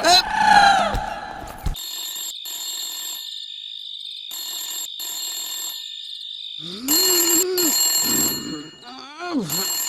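An old-fashioned telephone bell rings in repeated bursts with short pauses, loud and close, with voices talking briefly before and after.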